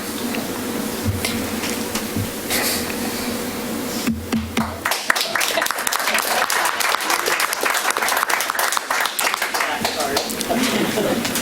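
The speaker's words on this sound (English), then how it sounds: "I wasn't pausing for the applause." A speaker talks briefly before a city hall audience at a State of the City address, then a loud, dense burst of sustained applause takes over and keeps going steadily for several seconds.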